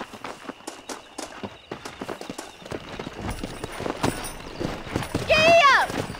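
Horse hooves clip-clopping as a rider sets off in the Red Dead Redemption video game, steady galloping beats rising in pace and loudness, with voices talking over the hoofbeats.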